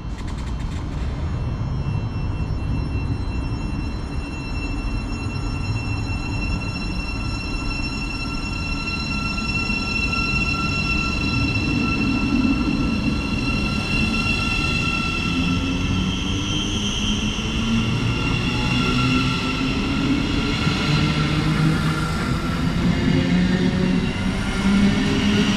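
A Thameslink passenger train to Bedford passes through Luton station with a steady loud rumble, rolling wheel noise and rising whining tones, heard close and continuous without talk.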